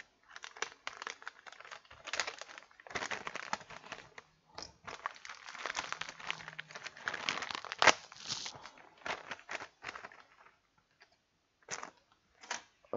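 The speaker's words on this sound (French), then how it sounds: "Alors, on va ouvrir un nouveau paquet." A new packet's plastic wrapper is torn open and crinkled up close on a workbench during micro-soldering repair of an iPad 4 motherboard, with dense bursts of rustling and crackling broken by short pauses.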